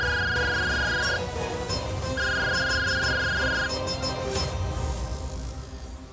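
A phone rings with an incoming call in two steady electronic tone bursts separated by a short gap, clear over faint room sound, then stops.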